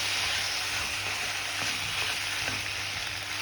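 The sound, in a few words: boiled pasta stirred into sautéed garlic in pan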